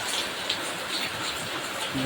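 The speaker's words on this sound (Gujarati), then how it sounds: "આજે વરસાદ આવ્યો છે" Light rain patters in a soft, even hiss, steady throughout the short moment, with a faint voice mixed in underneath.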